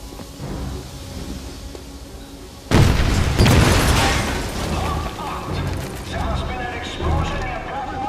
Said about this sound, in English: Take cover! It's going to blow!